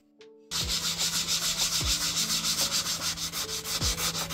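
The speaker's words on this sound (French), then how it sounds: "il fallait d'abord tout poncer" Wooden shelves being sanded by hand, a rhythmic scraping rub repeating in steady strokes up close after a short quiet start, with occasional low knocks and no talk.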